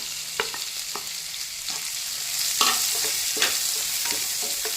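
Finely chopped onion and green chilli tadka frying in a pan, a steady close sizzle broken by several distinct spoon taps and scrapes as it is stirred, with no talk.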